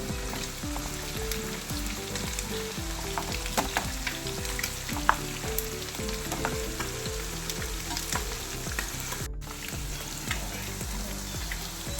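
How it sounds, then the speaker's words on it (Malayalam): Loud, continuous sizzling of tuna frying in hot oil for fish pickle, with faint scraping from stirring. "ഇനി മീൻ വറുത്തെടുക്കുന്ന താമസം മാത്രമേ ഉള്ളൂ"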